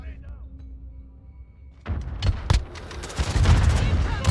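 Gunfire in Call of Duty: Modern Warfare (2019), a shotgun fight around a corner, bursts in loud and close after a quiet stretch, with sharp blasts and chaotic clatter continuing to the end while a player talks over it.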